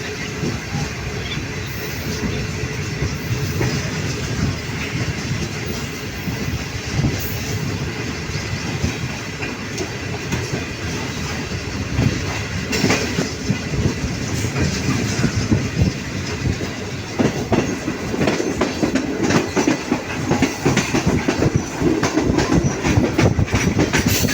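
The GreenLine Express passenger train runs along the rails from Hyderabad to Lahore, Pakistan. A continuous rumble with rhythmic clickety-clack from the wheels is heard from inside the carriage, with faint voices now and then.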